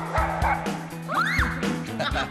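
Many dogs living together as a large pack in a cage-free shelter bark, yip and whine all at once in a dense, overlapping din. Talk can be heard in the mix.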